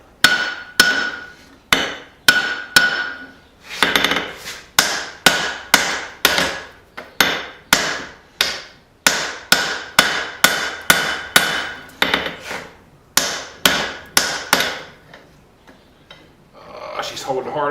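Hammer blows on hot steel while forging a dog nose hammer: loud, ringing strikes land in a steady rhythm, dozens in sequence, close to the anvil, with a short pause near the end.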